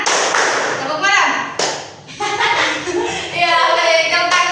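Indonesian classroom pupils play a teacher-led clapping game, sharp group claps in short bursts between chanted call-and-response voices, loud and close.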